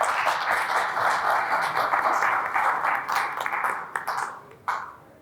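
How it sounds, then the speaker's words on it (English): An audience at an investor show applauding a speaker, dense continuous clapping from a crowd that thins out near the end, with a few louder claps close by. "Can you give George a round of applause, please?"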